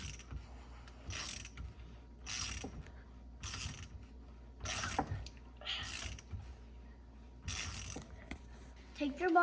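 Mechanical ratcheting bursts from a wrench loosening and backing out a bolt on a Honda CRF110 fork during a fork seal job, about six short clicking runs evenly spaced with quiet pauses between, close and moderately loud.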